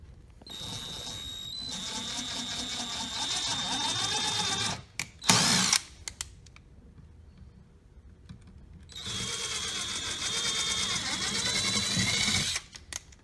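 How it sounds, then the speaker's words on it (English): A power drill with an 11/64 bit boring holes in a Jaguar, two sustained whirring bursts of the motor separated by a pause with a brief sharp clunk, fairly close and steady. "So I'm going to go ahead and drill."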